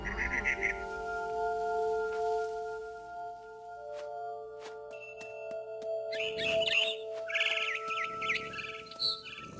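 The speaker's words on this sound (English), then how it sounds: "Then I heard chirping outside my window. It was a barn swallow going back to her nest." A barn swallow chirps and twitters outside a window, with short bursts of birdsong over a steady tonal background hum, fairly faint and without speech.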